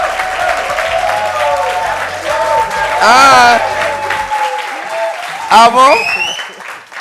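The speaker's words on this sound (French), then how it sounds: "Applaudissements." Studio audience applause during a televised debate in Abidjan on the cost of living for young people, rising in two brief bursts amid continuous talk, with a person speaking over it.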